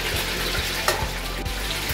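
Whole cloves and pepper fry in a pan, giving a loud, steady sizzle close up, with faint rhythmic low thumps and a brief scrape of stirring.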